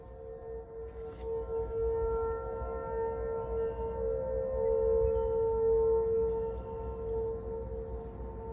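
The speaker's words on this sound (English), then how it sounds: "they are testing the tornado sirens" A tornado warning siren under test in Illinois drones steadily from a distance, its sustained tone swelling and fading slightly as it rotates, with no voices present.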